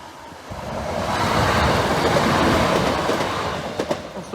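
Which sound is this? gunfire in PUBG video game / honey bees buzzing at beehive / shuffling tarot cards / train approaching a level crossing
train approaching a level crossing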